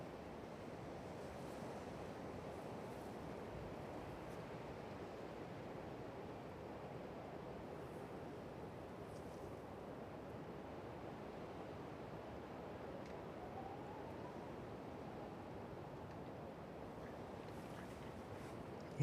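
Strong wind from Storm Éowyn buffeting a microphone outdoors at East Midlands Airport, a steady loud roar of broadband rushing noise throughout with no pauses.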